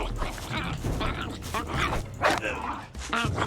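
A hostile dog in the survival game Fountain of Youth barks and yips in short bursts, mixed with game sounds and a voice talking over it.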